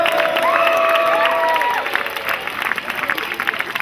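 A crowd at a football team barbecue claps and cheers for a coach, with loud applause that thins toward the end and a few shouts and whistles over it.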